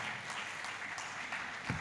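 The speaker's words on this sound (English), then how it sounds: "Let's give them a round of applause." An audience at a talk on project portfolio management gives a short, even burst of applause, dense clapping that holds steady throughout.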